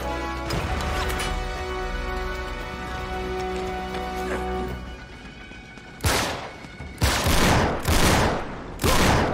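Sniper gunfire and shooting in the video game Uncharted 3: a sustained burst of loud firing, then a pause and several sharp, heavy blasts in quick succession, with no voices.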